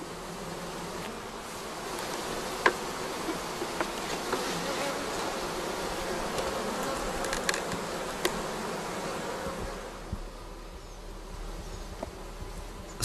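A honeybee colony hums steadily during comb transfer at an apiary, a dense, continuous buzz of many bees close by, with occasional faint knocks and handling sounds over it.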